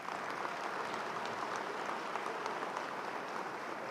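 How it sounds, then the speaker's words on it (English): A commencement ceremony crowd applauds in a large hall, a continuous dense wash of clapping holding at an even level throughout, somewhat distant and reverberant. "Let's give them a round of applause."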